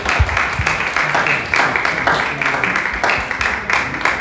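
A church congregation claps loudly during a worship service, a dense burst of applause with rhythmic surges that carries on without pause.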